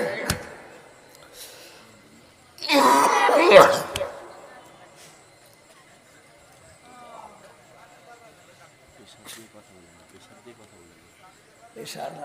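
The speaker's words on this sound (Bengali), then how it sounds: "এমনি কাশি চলে আসছে" A man coughs and clears his throat in one loud, rough burst partway through a sermon, with quiet speech before and after.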